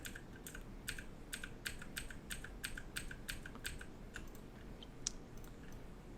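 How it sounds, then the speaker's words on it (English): Computer keyboard keys pressed in a quick series of crisp clicks while undoing edits in InDesign, a steady run of close taps at first, then a few sparse presses, with no voices. "I'm going to hit Control Z until we get back to what we had originally"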